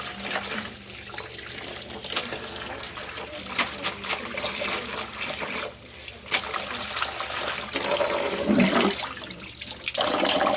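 Water spinach (kangkong) washed under a running tap, with a steady gush of water into a sink, splashing and sloshing as the leaves are handled, close and continuous throughout.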